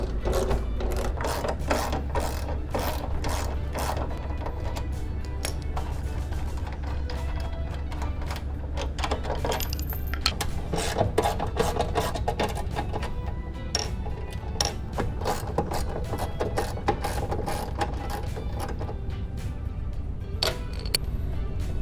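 Rapid mechanical ratcheting clicks from a 12mm socket wrench loosening bolts on a Green Machine 62V cordless snow blower, close and steady with dense repeated clicking bursts throughout, over a low hum.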